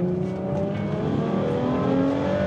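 Naturally aspirated V12 of a Ferrari 812 Superfast pulls hard and close, its tone rising steadily in pitch as the engine revs under load, with no talk over it.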